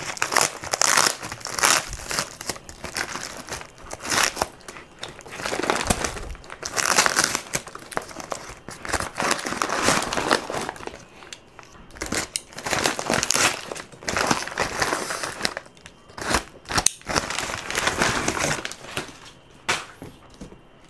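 Plastic packaging for Eye of the Eagle items crinkles and crumples continuously at close range, loud bursts of crackling rising and falling in irregular handfuls with brief pauses, no voices.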